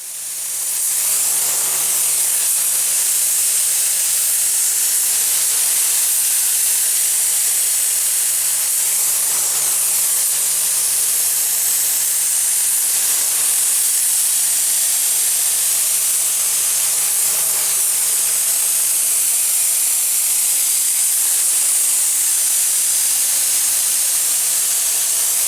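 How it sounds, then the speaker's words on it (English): A paint spray gun hisses loudly and continuously for a long stretch, spraying jet black paint on a Club Car golf cart, a steady close-up rush of air with slight pulses. "Let me go ahead and put that in the gun and go and spray it."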